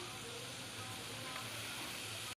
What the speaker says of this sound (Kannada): ಇದಕ್ಕೆ ಎಣ್ಣೆಯನ್ನು ಹಾಕ್ಕೋಬೇಡಿ ಡ್ರೈ ಆಗಿ ಫ್ರೈ ಮಾಡ್ಕೋಬೇಕು ಕೆಂಪಗಾಗಿದೆ ಒಣಮೆಣ್ಸಿನ್ಕಾಯಿ ಹಾಕ್ಕೊಂಬಿಡೋಣ ಇದೊಂದು ಸ್ವಲ್ಪ ಫ್ರೈ ಆಗಲಿ